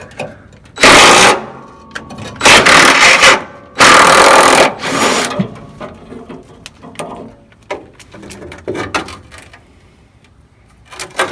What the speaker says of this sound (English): Alright, I got the drill. We should be able to just zip this right out of here.